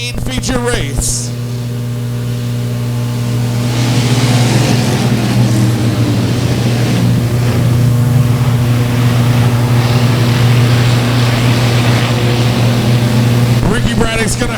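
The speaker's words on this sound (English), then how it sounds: "It'll be up to the number 11, Brian Holland, getting us underway, coming off of turn number 4 for your A main feature race." 600cc stock cars race at a speedway in a steady, loud engine drone that builds after a few seconds and holds near and constant, with no clear talk over it.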